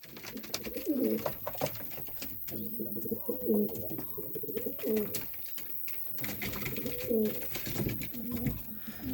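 Several pigeons coo in low, throaty, repeated phrases nearby, over a faint background hiss and occasional rustling.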